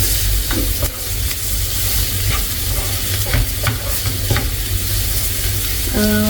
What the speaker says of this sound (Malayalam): പാൻ ചൂടായ സമയത്ത് ഓയിൽ വെച്ചു നമ്മൾ കട്ട് ചെയ്ത് വെച്ച സവാള ഇട്ട് കൊടുത്തതാണ്